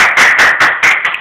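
A group of people applauds at a New Year's Eve 2007 gathering, with loud, dense clapping that surges in several bursts over a brief moment.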